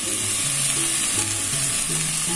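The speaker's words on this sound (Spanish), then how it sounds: "Vamos a echarle tantito aceite" Oil added to a hot pan sizzles and fries steadily, a loud continuous crackle with a faint hum underneath and no talk.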